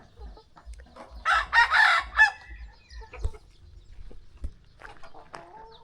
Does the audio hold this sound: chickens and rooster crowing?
yes